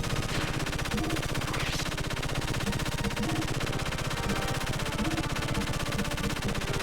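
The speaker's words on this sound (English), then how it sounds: "that gun really likes to shoot when we're paused" A gun in the video game Xenogears fires continuously in a rapid, even, mechanical rattle at steady moderate loudness, with a couple of faint rising tones in the background.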